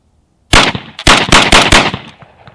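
A KRX Tactical 12-gauge shotgun firing number 4 birdshot outdoors: five loud, sharp blasts in quick succession, each with a short echo trailing off, and no talk.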